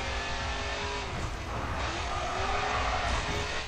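A race car in GRID 2 accelerating hard on nitrous boost, its engine roaring loudly and steadily with rising pitch and faint tire squeal, close and continuous, with no talking.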